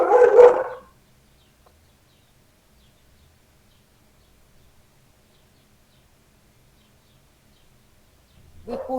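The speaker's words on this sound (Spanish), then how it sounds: "Disculpen, es mi perrito" A small dog barks indoors at home: a short, sharp burst of yaps opens, then near silence, and a second brief round of barking comes at the close, with no talk.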